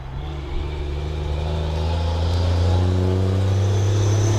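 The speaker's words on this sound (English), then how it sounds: "You can hear the trucks in the background coming in and out of that big quarry I was telling you about." Heavy trucks drive in and out of a big quarry near Glencairn, Ontario, a steady loud engine drone that builds slightly over a few seconds, with no voices.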